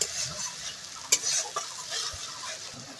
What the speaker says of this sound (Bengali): মশলাটা ভালো করে কষিয়ে নেবো দু চার মিনিট ধরে